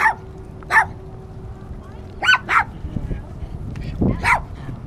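Dogs at Penn Valley Dog Park in Kansas City, Missouri bark in short sharp bursts, several separate barks and yips spread across the moment, while people talk and call nearby.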